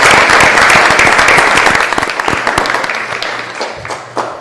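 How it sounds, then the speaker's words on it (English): Attendees at a town Board of Selectmen meeting applaud; the close, dense clapping thins into scattered individual claps and fades out toward the end. "So how about a round of applause?"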